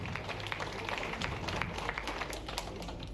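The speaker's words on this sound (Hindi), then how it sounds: "जोरदार तालियां आप सभी की ओर से।" An audience at a Bhopal police award ceremony claps in a steady, dense round of applause that holds at an even level throughout, with no break or talk.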